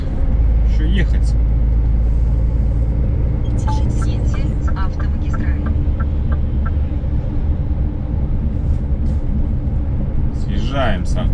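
A car rolls along a German autobahn and takes the exit, its steady road rumble and engine drone loud and continuous while a person talks over it.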